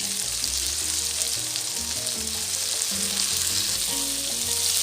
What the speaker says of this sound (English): And I'm just going to let it to simmer for just a minute or two.